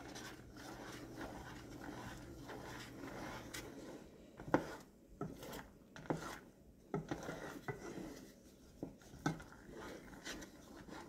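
Spoon scraping and knocking against a pot while peanut brittle candy mixture is stirred, quiet, with irregular taps and rubbing strokes recurring every second or so.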